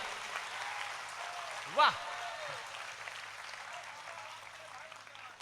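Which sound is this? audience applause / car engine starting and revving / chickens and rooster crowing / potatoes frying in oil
audience applause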